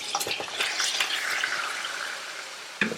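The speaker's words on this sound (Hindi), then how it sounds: "प्याज के साथ में अदरक लहसुन के साथ इसको आपने यहाँ पे फ्राई होने देना है" Mutton frying in a pan with onion, ginger and garlic for a Pakistani mutton and peas curry, a steady close sizzle with occasional stirring clinks throughout, no talking.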